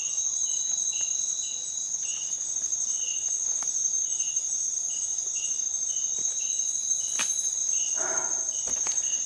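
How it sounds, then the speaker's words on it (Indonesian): Crickets chirp steadily and loudly at a campsite at night, a dense, continuous high trill with a few faint clicks and rustles nearby. "Jangkrik suaranya."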